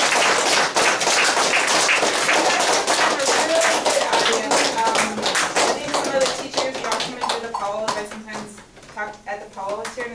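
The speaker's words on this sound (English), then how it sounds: "Let's give another round of applause." Audience applause at a live presentation at the Apollo, dense clapping that carries on steadily for about ten seconds before thinning out, with voices audible over it near the end.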